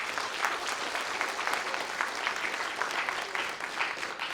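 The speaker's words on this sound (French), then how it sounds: "On peut les applaudir." Audience at a regional public-speaking competition final applauding the judging panel: steady, moderately faint clapping from a crowd, continuous throughout with no speech over it.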